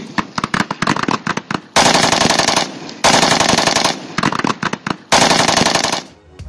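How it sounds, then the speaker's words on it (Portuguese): Loud close machine gun fire comes in rapid bursts, with short gaps between sustained volleys, and no talk over it. "Tiro de metralhadora."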